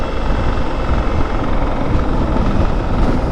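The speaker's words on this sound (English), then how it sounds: "It's like metal clattering." A BMW K1600B motorcycle riding with a steady, loud broadband engine and wind roar, a metallic rattle blended into the continuous drone throughout.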